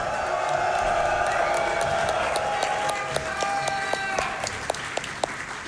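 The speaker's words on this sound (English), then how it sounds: "Let me hear you scream." A live crowd at Summer Games Done Quick 2024, a speedrun marathon during an Elden Ring run, roars with sustained loud cheering, screams and applause, with sharp individual claps and whoops standing out toward the end.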